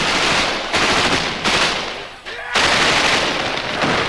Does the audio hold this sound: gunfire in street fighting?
yes